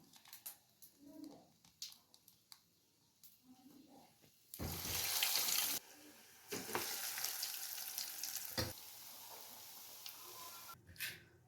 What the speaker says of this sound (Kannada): ಈ ಥರ ಬರೋವರೆಗೂ ಚೆನ್ನಾಗಿ ಫ್ರೈ ಮಾಡ್ಕೋಬೇಕು